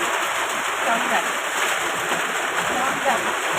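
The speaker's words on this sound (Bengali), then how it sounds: "আর মুষলধারে বৃষ্টি চলছে বাইরে" Heavy monsoon rain pours steadily outside, a dense, even hiss of water that holds constant at moderate loudness with no pauses.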